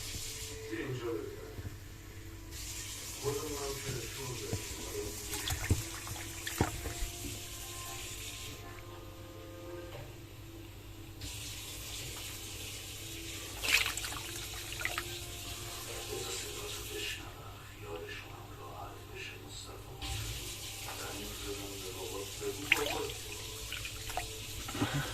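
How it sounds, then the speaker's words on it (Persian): Water is poured into a dishwasher's salt compartment until it overflows, giving intermittent running, splashing and dripping sounds, close and fairly quiet, while a person talks. "یه ذره آب میریزم سرریز بشه"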